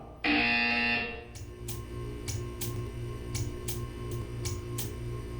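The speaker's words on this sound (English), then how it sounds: "You will hear a buzzer." A loud harsh buzzer blares for about a second, then stops, leaving quiet ticking and faint hum behind.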